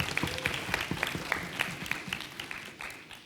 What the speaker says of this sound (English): Please also welcome them with a round of big applause.